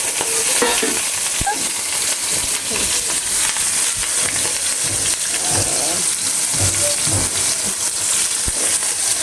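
Shrimp fry in a hot pan with a dense, continuous sizzle and crackle, close and fairly loud, with occasional soft stirring knocks underneath.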